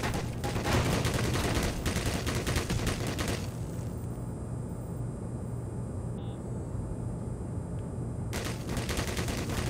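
Automated turret gunfire in the video game Black Mesa sounds as dense, rapid bursts of shots, loud at first, then easing to a steadier rattle before another burst near the end.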